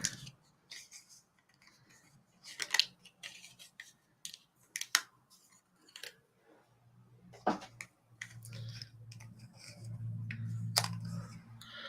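Scissors snip through paper in a series of irregular, close cuts, crisp separate clicks and slices with pauses between, while a low hum rises toward the end.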